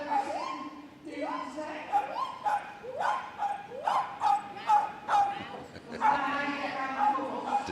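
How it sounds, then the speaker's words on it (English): A Miniature American Shepherd dog at a Crufts agility event barks in a rapid, regular series of sharp, loud barks, close by, with an announcer's voice alongside. "nicknamed the Fiery One, and barks her way round."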